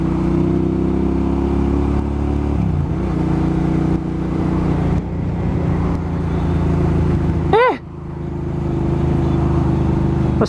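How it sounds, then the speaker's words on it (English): An electric moped passes through a busy Newcastle street amid steady, loud traffic engine rumble, with a brief sharp whine sweeping by near the middle. "I swear to God, that was the moped on the fucking thing."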